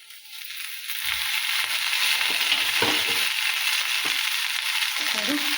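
Okra frying in a little oil for chutney makes a steady, close sizzling hiss that swells after the first second, with scrapes and knocks from stirring scattered throughout.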